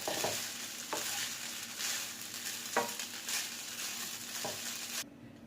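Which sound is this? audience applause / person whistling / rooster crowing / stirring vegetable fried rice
stirring vegetable fried rice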